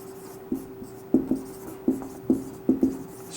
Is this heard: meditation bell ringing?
no